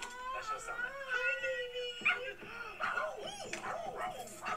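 Over a video chat, a dog yips and whines in quick, high bursts, close to the microphone, mixed in with people talking.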